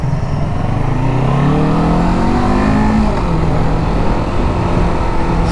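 A Kawasaki 650 motorcycle engine accelerates on the road at a demo day, a loud, steady, rising drone with climbing engine pitch that holds close throughout, no talk over it.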